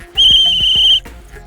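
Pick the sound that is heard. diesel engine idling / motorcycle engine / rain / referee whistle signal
referee whistle signal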